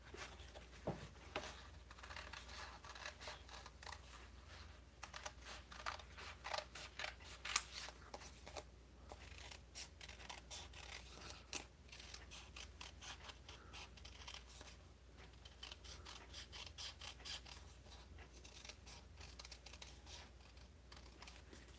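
Scissors cut scrapbooking paper pieces on a table in a long run of quiet, close snips and crisp paper sounds, joined by light taps, with no talk.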